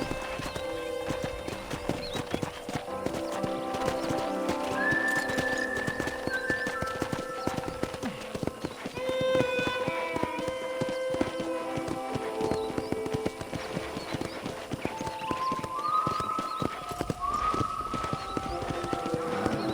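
Steady clip-clop of horse hooves in the video game Red Dead Redemption, under sustained tonal music with rising melodic notes, continuous throughout.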